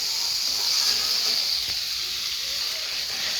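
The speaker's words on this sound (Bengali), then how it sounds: "দিয়ে দিলাম গরম জল" Hot water hits a pan of spiced shol fish with a steady, close steaming hiss that continues evenly throughout.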